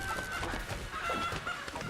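Chickens cluck repeatedly in the Enter the Gungeon video game, a busy, fairly steady stream of fowl calls layered over game sounds, with no speech.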